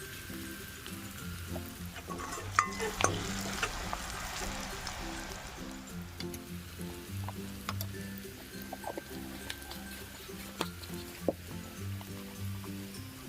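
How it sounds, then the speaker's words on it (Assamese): Turmeric, cumin and red chili powder are stirred in a frying pan for an Assamese rohu fish curry with mustard, giving a continuous sizzle with scraping and clinks of the spoon and faint background tones. "এতিয়া দিওঁ হালধি, জিৰা আৰু ৰঙা পাউডাৰ দি ভালদৰে মিক্স কৰি ল'ম।"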